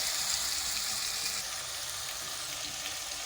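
Chicken and garlic fry in a pan with a soft, continuous sizzle and crackle, fairly quiet and steady, with no voices.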